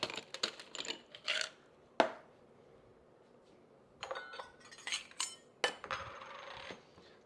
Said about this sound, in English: Let's grab our nice glass, fill it up with ice.